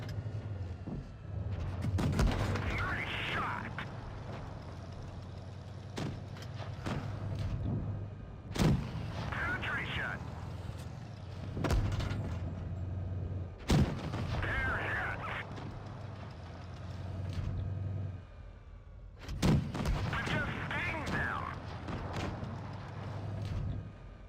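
Tank cannons fire in the World of Tanks Blitz game, a few heavy booming shots spaced several seconds apart over a steady low engine rumble.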